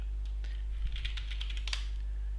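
Keys clatter on a computer keyboard during a command-line exercise in Ubuntu, a brief burst of quick, light clicks close by over a steady low hum.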